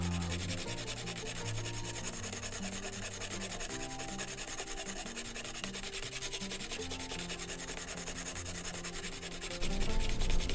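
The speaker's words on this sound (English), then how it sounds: "So just going to use some heavy grit sandpaper on a flat surface using a ceramic tile." Heavy grit sandpaper rubbed steadily over a flat ceramic tile to flatten the skates of a wooden plow plane, a continuous close scratchy grinding that runs unbroken and swells louder near the end.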